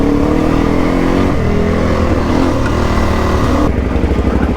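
Suzuki DRZ400E motorcycle engine idling down a steep downhill track in first gear, a loud continuous rumbling drone close to the rider with slight shifts in pitch.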